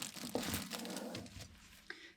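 A plastic bag crinkles and rustles softly close by as it is handled during a fountain pen ink sampling session, in faint irregular crackles with a couple of sharper crunches.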